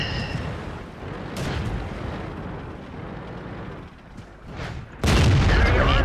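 M4 tank gun firing in World of Tanks, with a heavy boom, rumbling battle noise and a loud final blast, under background talk.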